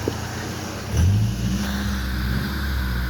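A Nissan S14.5 engine runs steadily just after its timing has been set, a continuous low mechanical drone with a brief rise around one second, close by, with no talking.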